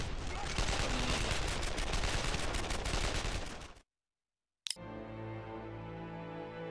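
Gunfire rattles in the video game Brothers in Arms: Earned in Blood, a dense, loud burst of rapid shots that cuts out abruptly into silence, followed by a sharp crack and a sustained ringing tone.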